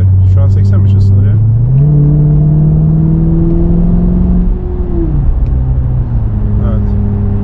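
A Mercedes S63 AMG engine hums loud and steady while the car is being driven, its pitch rising partway through and then settling, with someone talking over it.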